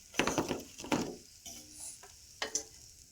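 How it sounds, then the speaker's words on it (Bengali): Chicken singaras frying in hot oil, with a steady close sizzle broken by sharp clatters and stirring scrapes as the pieces are turned and lifted. No voices are heard. "এইভাবে সব সিঙ্গারাগুলো আমি ভেজে নেব"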